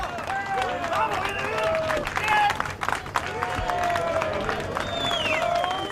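A large crowd applauds and cheers the surfacing of the 33 trapped miners during the 2010 Chilean mine rescue, with a dense, steady roar of clapping and shouting and voices talking through it.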